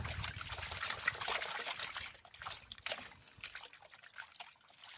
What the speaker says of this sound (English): I'll pour it and just